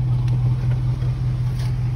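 A 2008 Dodge Ram 1500 pickup truck engine idles close by with a steady low rumble and even throb, no revving, running smoothly on its own.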